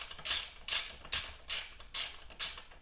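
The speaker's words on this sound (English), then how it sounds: "we're gonna have to loosen our chain adjusters" Rhythmic ratcheting of a wrench loosening the chain adjusters on a Honda Grom motorcycle, about six quick, evenly spaced bursts, close and clear with no talking.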